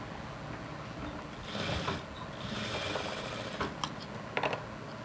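A sewing machine stitches pants in a tailoring workshop, with short rattling bursts of mechanical clatter and ticks at a moderate level in a quiet room.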